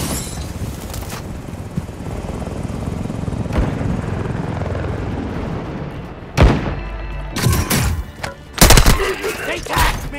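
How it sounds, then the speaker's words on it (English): An attack helicopter in Call of Duty: Modern Warfare II comes under fire: a steady rotor drone runs throughout, then sharp bursts of gunfire and impacts break in loudly near the end. "Hostile attack helo carrying cash. Shoot it down."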